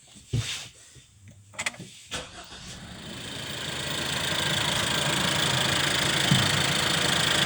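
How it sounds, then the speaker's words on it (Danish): A Suzuki Vitara engine, in neutral with a new battery, cranks and catches after a few clicks, then settles into a steady, rising idle rumble that keeps running. "Vi går ind og starte bilen her."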